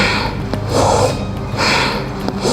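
Forceful breaths push in and out through the nose and mouth in a steady rowing rhythm during a yoga breathing exercise, loud and close, with sharp snorting exhales repeating about every second.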